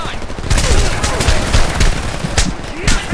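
Sustained machine gun fire in the war shooter Homefront, a loud continuous roar of rapid overlapping shots with heavier bursts punching through, voices shouting underneath.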